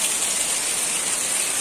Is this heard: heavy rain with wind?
yes